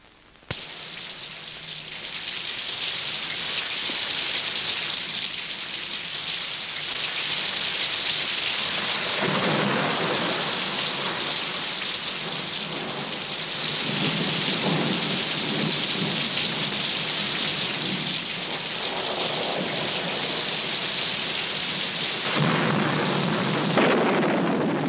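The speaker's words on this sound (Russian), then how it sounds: "На протяжении двух дней я слышал лишь звук дождя." Heavy rain pours steadily in a dense, hissing wash with deep thunder rumbling underneath, loud and continuous for the whole stretch, briefly easing near the end.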